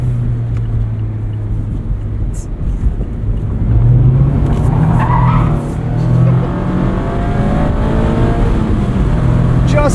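A 2024 Mazda MX-5 Miata Club with its four-cylinder engine drives along, steady engine drone and tire roar heard from inside the cabin, with the pitch rising as it accelerates midway and faint voices underneath.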